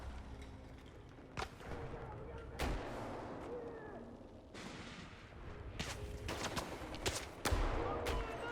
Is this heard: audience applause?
no